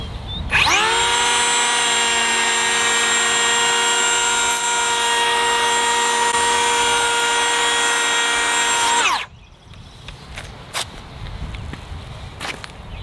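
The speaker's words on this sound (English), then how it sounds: "Right now I'm just going to plane the top at different settings so you can see how much wood chips fly out" A Ridgid Octane 18-volt cordless 3.25-inch hand power planer spins up and cuts wood with a loud, steady high whine for about eight seconds, then stops. Faint handling knocks follow.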